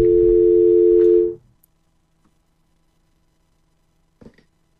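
Steady landline dial tone after a call-in caller's line drops on a Romanian religious radio program, loud and continuous for just over a second, then cut off, leaving near silence with a faint click and a brief knock near the end.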